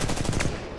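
Rapid automatic gunfire in the shooter game Titanfall 2, a loud, dense burst of shots lasting under a second.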